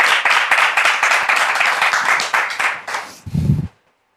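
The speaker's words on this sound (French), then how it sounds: "Est-ce qu'on peut les encourager avec des applaudissements?" An audience at a French church gathering claps and applauds for several seconds, dense and fairly close, with cheers near the end before the applause dies away.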